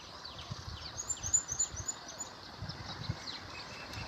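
A songbird calling repeatedly with clear chirps, faint and somewhat distant against soft outdoor background noise, no talking.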